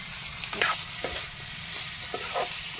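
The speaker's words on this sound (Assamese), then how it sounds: "মাংসখিনি ধুনীয়াকৈ লৰাই লৰাই ভাজি ল'ম।" Chicken stir-frying in a pan, with a steady sizzle broken by a few sharp scraping stirs of a utensil, close and fairly loud.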